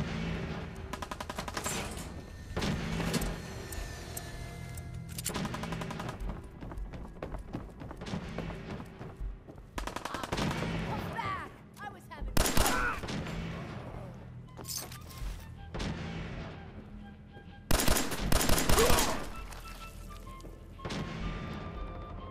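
Bursts of rapid automatic gunfire from the video game Fallout 4, loud and close, arriving in several separate volleys with short gaps between them.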